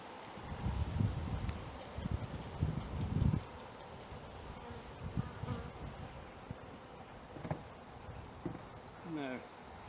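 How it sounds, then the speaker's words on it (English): A windy day outdoors near a beehive brings low rumbling gusts buffeting the microphone, loudest in the first few seconds, with buzzing insects and a faint bird chirp over a steady breezy background. "It's a little bit windy today"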